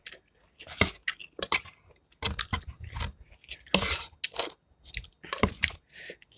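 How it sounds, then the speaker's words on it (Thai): Close chewing of beef tendon meatballs from a spicy Thai beef noodle soup, with repeated crunchy, squishy bites in irregular bursts that stop and start, loud and near with no talking. "เคี้ยวไปแล้วกึดกึดกึดดิ"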